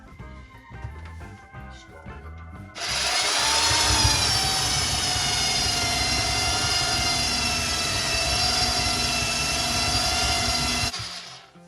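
A Parkside PBSD 900 A1 belt sander runs on a workpiece clamped to a workbench, starting abruptly and holding a loud, steady broadband whine with a droning motor tone, then cutting off sharply near the end.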